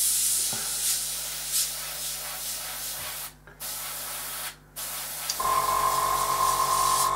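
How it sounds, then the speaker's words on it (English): Aerosol paint hisses from a spray can in steady bursts with two brief pauses, close by, while spraying a MiG-23 model, then a higher hum takes over near the end. "Just spray it till it starts coming through."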